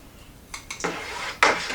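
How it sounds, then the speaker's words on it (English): Sugar stirred into elderberry wine must for homebrewing, a few brief scraping and sloshing strokes against the container, close and moderately loud. "Just trying to get it all stirred up, get that sugar in there moving."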